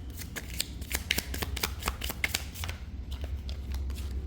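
Rapid riffling snaps of a deck of cards being shuffled during a card reading, several quick bursts in a row, close and crisp.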